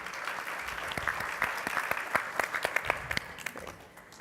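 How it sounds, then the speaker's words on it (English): An audience at a CIO panel event gives a round of applause, many hands clapping fairly close with a few sharp individual claps standing out before the sound thins toward the end. "Give a round of applause for our last panel,"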